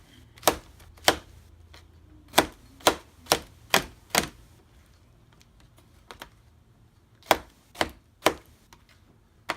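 A knife cuts sharply down through a fresh pineapple onto a board, giving about a dozen loud, close chops in uneven clusters with short pauses between groups and no talking.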